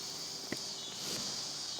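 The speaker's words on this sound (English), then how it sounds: "Listen to the cicadas." A continuous high buzzing drone of cicadas fills a nighttime campsite with a rooftop tent, steady and moderately loud, with a single faint tap partway through.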